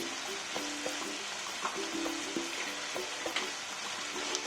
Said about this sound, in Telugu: ఈ అల్లం వెల్లుల్లి పేస్ట్ కూడా పచ్చివాసన పోయే వరకు వేయించుకుందాం